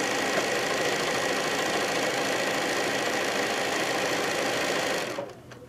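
A sewing machine runs steadily, stitching quilt blocks in one continuous mechanical whir that stops abruptly near the end.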